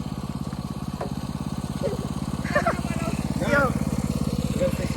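A minibike engine idles with a steady, close putter throughout, while people talk briefly over it.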